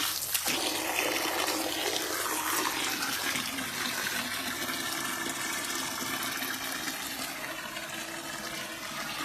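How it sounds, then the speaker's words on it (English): Water pours steadily into a homemade garden water feature built with bricks and a pump, a continuous close rushing and gurgling that holds at an even level throughout. "I'm going to put a little bit of water in it and turn it on and have a look"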